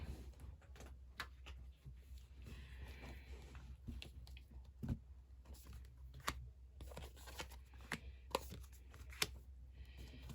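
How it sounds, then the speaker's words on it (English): Tarot cards being shuffled by hand during a reading, heard as quiet, close, soft papery riffles and taps in short irregular bursts against a faint low background hum. "I feel like I wanted to shuffle longer, but 3 cards already fell out."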